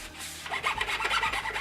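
Rhythmic, raspy back-and-forth rubbing of sandpaper wrapped around a dry sponge on wood furniture, close up, about five quick strokes.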